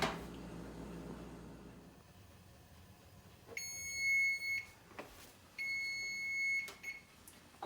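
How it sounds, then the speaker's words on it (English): Kitchen oven timer beeping while cupcakes bake, two bursts of rapid high electronic beeps in a quiet room, fairly close and moderately loud. "Okay, timer went off,"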